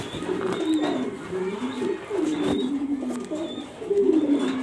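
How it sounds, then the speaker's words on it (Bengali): A female racing pigeon coos in repeated low, throaty rolls, close by, with brief pauses between bursts and faint bird chirps in the background. "এটা মাদি কবুতর রেসার মাক্সি মাদি কবুতরটা দেখাচ্ছি আপনাদেরকে।"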